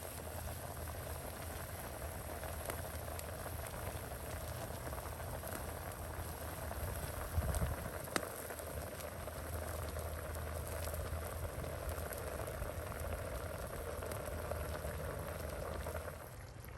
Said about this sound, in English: we're gonna let this boil and simmer for about half an hour, 45 minutes